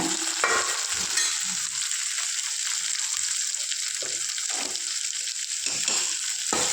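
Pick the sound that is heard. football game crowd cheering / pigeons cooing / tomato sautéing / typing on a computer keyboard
tomato sautéing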